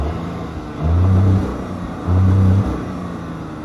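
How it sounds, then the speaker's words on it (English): A 2020 Audi S6 engine revs twice from idle, each blip a short low swell lasting about half a second before dropping back to a steady idle rumble, heard close by from inside the car. "If I rev it up, you can see it move. Get you a little bit of noise from the motor."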